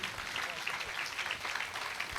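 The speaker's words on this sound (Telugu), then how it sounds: "గట్టిగా చప్పట్లు కొడుతూ" An audience claps loudly and continuously at the close of a Christmas prayer gathering in Araku, a bright, even patter of many hands, with some voices mixed in.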